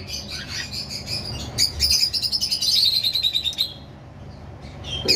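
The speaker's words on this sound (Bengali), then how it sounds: "আমার কাছে এক পিস ক্রিম ফেস কোকাটেল রয়েছে" A cream-face cockatiel chirps nearby in a rapid burst of bright, high warbling notes, then falls quiet, with one more sharp chirp at the end.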